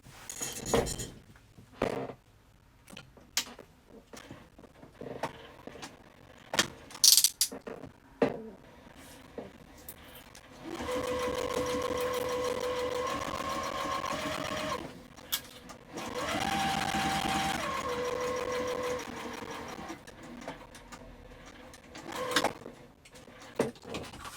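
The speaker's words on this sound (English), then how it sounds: "take the other lining piece and then the panel, small pocket panel C, which is your main, and put them together and sew across the top" Sewing machine stitching across the top of a tote's lining piece and small pocket panel, with short bursts and clicks early on, then two long steady runs of motor whirr separated by a brief pause.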